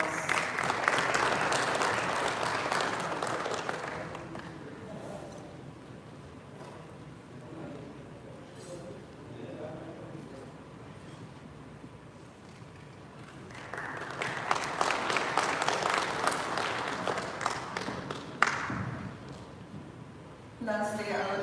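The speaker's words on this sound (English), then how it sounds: "Please give a huge round of applause." An audience at an awards event applauds a recipient taking the stage, with a burst of clapping that fades into a quieter stretch where people talk, then a second swell of applause near the end.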